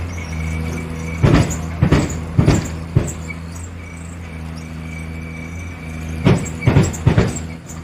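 A machine turns and lifts a loaded vehicle during machine shifting: a steady low engine hum runs throughout, broken by two clusters of sharp, rhythmic clanks near the start and again near the end.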